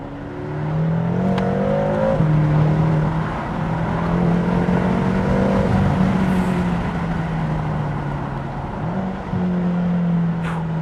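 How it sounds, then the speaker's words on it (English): BMW M6 turbocharged engine revving while driving in second gear, a loud close drone that climbs and dips through gear changes, with a brief whistle near the end and no talking. "The sound of that engine. I just love it."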